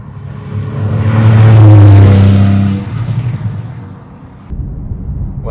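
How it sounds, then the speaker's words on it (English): A Porsche 911 (991.1) naturally aspirated boxer engine revs up loudly, its pitch climbing and holding for a couple of seconds before dropping back to a rumbling idle, close by. "the naturally aspirated boxer engine produces a sound that is so sweet"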